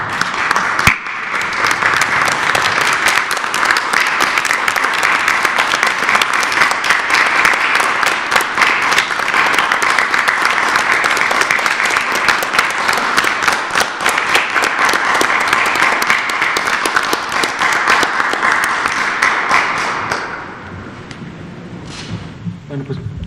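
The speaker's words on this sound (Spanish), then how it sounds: "es nuestro gesto, nuestro aplauso, que es un gesto para agradecer, hacer un pequeño homenaje a los trabajadores del sector salud" Sustained applause from a gathering paying tribute to health sector workers, a dense, loud wash of clapping lasting about twenty seconds before tapering off.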